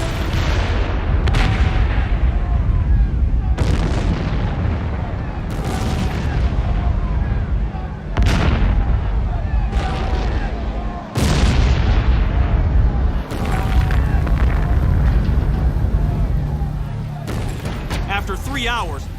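Chemical-filled drums explode inside a burning 60,000-square-foot plant. Heavy, roaring blasts hit every few seconds over a continuous loud rumble of fire, with a narrator's voice running underneath.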